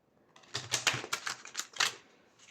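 A tarot deck is shuffled in one quick riffle, a rapid patter of card edges snapping together for about two seconds, close and soft, with no voice over it.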